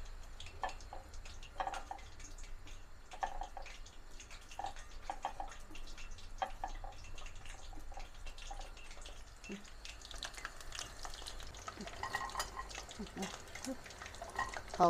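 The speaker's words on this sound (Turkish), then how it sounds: "Önceden bıraktıktan sonra tavuğu içine ekledim." Chicken pieces frying in hot oil in a pot for homemade Popeyes-style fried chicken, a steady low bubbling sizzle with scattered pops and stirring clicks running throughout, with faint speech at times.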